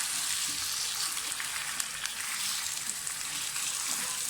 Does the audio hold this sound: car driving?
no